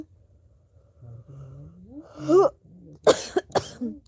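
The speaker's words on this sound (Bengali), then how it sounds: "আমার কাশি উঠে যাচ্ছে" A person lets out a sequence of close, raspy coughs with throaty breaths and wheezy sounds between them, ending in two sharp bursts.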